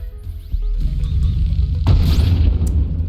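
A torpedo strikes an enemy ship in the space strategy game Breachway, giving a deep rumbling boom that rises into a heavy blast and lingers for a couple of seconds, with no talk.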